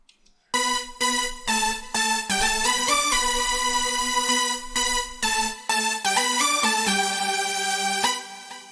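A soft, somewhat aggressive synth lead layer in FL Studio filling out a progressive house melody, playing sustained bright chord-like notes with a full low end in a continuous phrase, close and alone with no talking.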